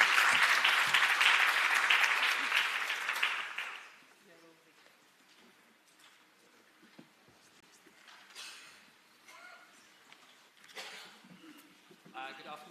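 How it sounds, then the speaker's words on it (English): Audience applause for a speaker at a university higher-education conference: a full, loud burst of clapping that lasts about four seconds, then drops away abruptly into quiet room noise and scattered faint sounds. "A round of applause, please."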